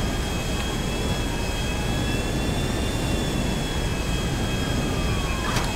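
A jet airplane engine in GTA 5 roars loud and steady as a constant broadband rush, with faint whining tones gliding slowly downward above it.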